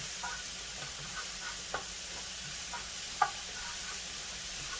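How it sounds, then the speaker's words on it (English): Vegetables for a black bean burger sauté over medium heat, producing a soft, even sizzle broken by a few light taps of a spoon against the pan. "I'm just going to saute that a little bit on medium heat"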